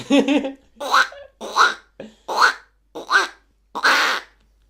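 A voice imitates a duck with a run of six nasal quacks, evenly spaced and fairly loud, each separated by short silences.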